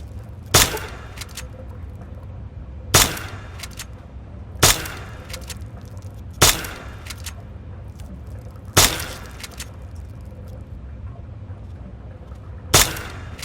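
In Fallout 3 on Xbox, a BB gun fires at a rad roach: six sharp, loud cracks ring out at irregular intervals of a couple of seconds over a low background hum.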